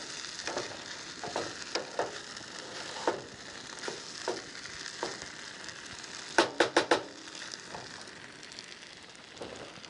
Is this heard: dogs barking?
no